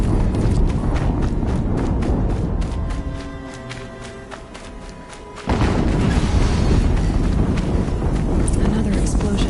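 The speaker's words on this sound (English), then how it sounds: "Another explosion." Explosions in a PS4 video game, booming blasts that fill the mix, with a brief quieter stretch before a sudden loud burst, under game music and a voice speaking.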